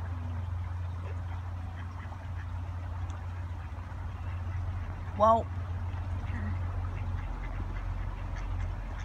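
Several near ducks on a pond make a few low calls, then one quick, loud rising run of quacks near the middle stands out over a steady low background hum; someone speaks briefly.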